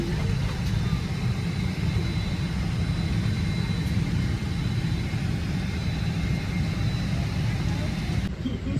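Inside an airplane cabin before takeoff, a loud, steady low engine and ventilation roar fills the space without a break.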